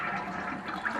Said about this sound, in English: let's give it a flush and get rid of that water from the tank